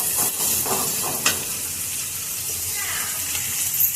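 Onions and tomatoes sautéing in oil with a soft, continuous hiss and light stirring, fairly close and moderately loud.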